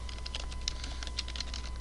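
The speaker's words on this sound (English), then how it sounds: "I'm going to type NSLOOKUP" Rapid, light clicking of keys on a computer keyboard as a command is typed, a steady close patter of keystrokes over a low hum.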